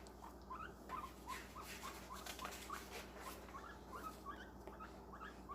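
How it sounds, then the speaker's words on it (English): A pet guinea pig chirps in a quiet room, a faint, steady series of short high peeps repeating every fraction of a second. "if you hear chirping in the background, it is my guinea pig, Max"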